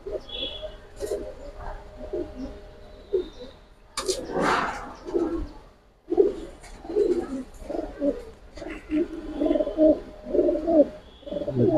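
A pair of Kaldom pigeons coo in soft, repeated low phrases, close by, with people talking over and between the calls.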